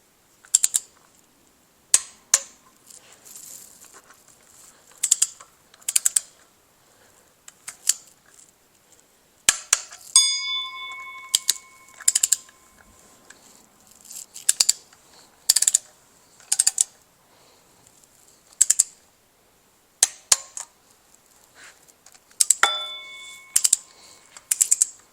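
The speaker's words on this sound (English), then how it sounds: "Set our torque wrench to 11 pounds for the first" A torque wrench clicks while tightening engine bolts on a 5.3 LS, giving sharp, close ratcheting clicks in short bursts separated by quiet gaps, with a couple of ringing metallic taps, and no talking.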